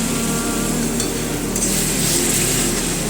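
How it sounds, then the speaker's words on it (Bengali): Okra, onion and mustard paste frying in a pan give a loud, steady close sizzle as a little water goes in, with light stirring scrapes and no voices. "এই পর্যায়ে আমি অল্প একটু জল অ্যাড করে দেব।"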